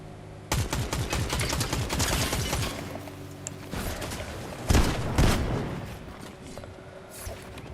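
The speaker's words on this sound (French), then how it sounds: "Le fusil à pompe automatique Fury." Rapid bursts of Fury automatic shotgun fire in the video game Fortnite, several loud blasts in quick runs with clanking mechanical reloads between them, against a busy game soundtrack.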